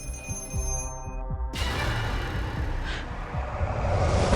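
An old black telephone in a horror film rings with a bright metallic bell tone, then is swallowed by a sudden swell of loud, noisy soundtrack with low rhythmic thuds.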